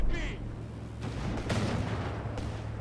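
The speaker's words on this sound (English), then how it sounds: "Another series of hits from the anti-tank rifles." Anti-tank rifle hits in Company of Heroes 3, a desert battle between Afrika Korps and British forces, with several booming reports and impacts spread across a busy battlefield din, a commentator's voice running underneath.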